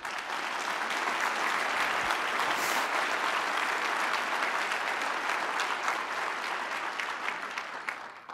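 An audience claps at a journalism award ceremony honoring CBS News' Scott Pelley with the Cronkite Award. Sustained, full applause from a large crowd holds steady, then tapers slightly toward the end.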